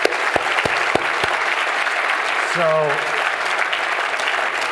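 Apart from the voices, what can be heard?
audience applause for Kevin at award dinner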